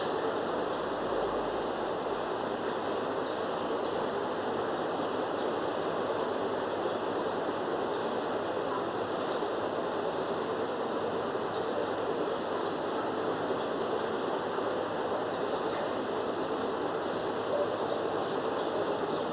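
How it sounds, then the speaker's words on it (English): Alcoholic sanitizer boiling during distillation gives a steady, continuous bubbling and hissing wash at low level, unbroken for the whole stretch, with no talk over it. "Now see the boiling is taking place. The bubbles are coming out"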